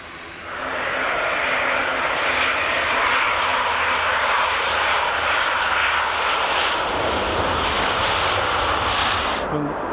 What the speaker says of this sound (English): Next out, Edelweiss A350.